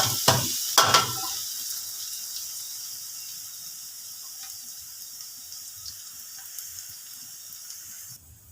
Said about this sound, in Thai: เดี๋ยวกระเทียมออกแล้วหมูลงไปผัด